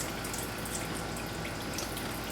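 Water full of floating squash seed pulp and gunk poured out of a bowl, a steady close splashing stream running throughout, with no talk.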